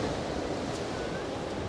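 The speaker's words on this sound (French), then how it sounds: "Mais là, surtout, j'entends les vagues." Sea waves breaking against the rocks at Biarritz make an even, distant wash of surf with wind noise, with no voices.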